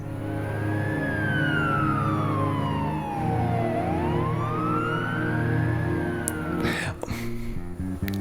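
A police siren from a SimCity 2000 MIDI remaster wails in long rising and falling sweeps over a steady synthesized music bed, with a brief burst of clatter near the end.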